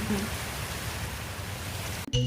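Rain beginning to fall outdoors in autumn, a steady broadband hiss of drops that fills the whole moment, fairly loud and close, cut short by a different sound at the very end.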